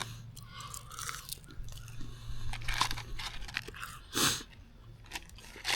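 Someone eating french fries on a lakeside lunch outing at Lake Hartwell, Georgia, with close, soft crunching and irregular chewing, gentle bites over a low steady background hum.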